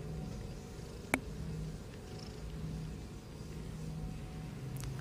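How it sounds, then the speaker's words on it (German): A cat purrs steadily in Assassin's Creed Odyssey, a soft continuous low rumble held for several seconds, faint and close, with a brief click partway through and no talking. "Eine Katze."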